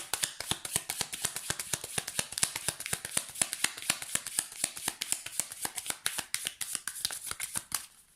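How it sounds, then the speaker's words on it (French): Tarot cards being shuffled by hand, a rapid, steady run of crisp riffling snaps that continues for several seconds, close and clear with no talking. "le temps de brasser les cartes"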